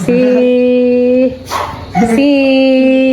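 Pet dogs in a home vocalize close by in long, steady whining or howling tones, with a brief noisy break in the middle before the drawn-out cry resumes.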